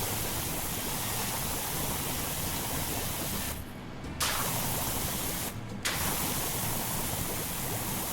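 Pressure washer spraying car wheels in the video game PowerWash Simulator 2, a loud, steady hiss of spray that cuts out twice briefly before resuming.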